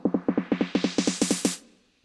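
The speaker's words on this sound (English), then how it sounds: "Your classic snare roll." A classic snare drum roll from an electronic dance track: a steady run of about a dozen quick, evenly spaced hits growing brighter as a filter sweeps, then a brief tail, silence and a new hit right at the end.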